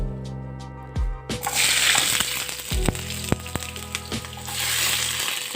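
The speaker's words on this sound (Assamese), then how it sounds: "প্ৰথমে মই জিকাখিনি অকণমান ফ্ৰাই কৰি ল'ম" Chopped ridge gourd and onions hit hot oil in a pan and burst into a loud, steady sizzle, with scattered knocks and scrapes of a spatula nearby.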